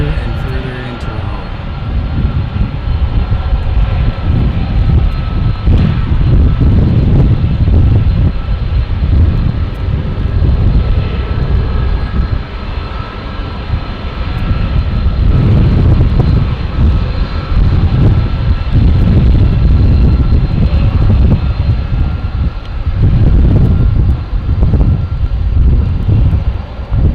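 At DFW airport during a thunderstorm, a jet aircraft roars past nearby, a loud, sustained low rumble with wind buffeting the microphone that swells and eases over nearly half a minute, with no clear speech.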